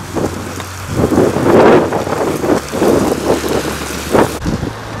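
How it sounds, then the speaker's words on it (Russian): Strong, gusty wind roars loudly and steadily across the microphone outdoors, swelling and easing in rumbling waves with no one talking. "Ох, какой ветер нешуточный."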